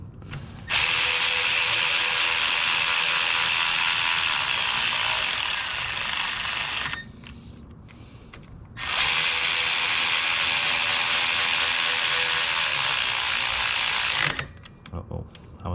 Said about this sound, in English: just hand tightening this with the power tool